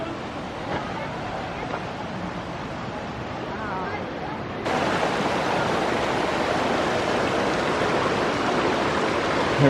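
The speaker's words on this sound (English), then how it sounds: "Here we are at the waterfall." A waterfall and creek on a San Diego hike give a constant, full rushing hiss that grows louder and brighter partway through as the falls are approached, with no speech over it.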